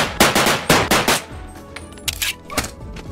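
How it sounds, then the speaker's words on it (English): A classic Colt pistol in Bonelab fires a quick series of loud, sharp shots, several close together and then a few more spaced apart, crisp and near with no voices. "Now here's a classic Colt."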